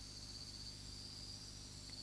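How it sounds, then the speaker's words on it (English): Night insects and singing male cicadas in a tropical rainforest, a constant high, shrill buzzing drone with a steady hum beneath, unbroken and even in loudness, with no speech. "Cicadas are very common. The singing males produce the characteristic noise of a tropical night."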